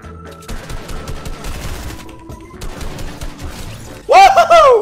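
A few sharp shotgun blasts and scattered gunfire in Fortnite, mid-distance over a busy game soundscape, followed by a loud burst of bright tonal sound at the end.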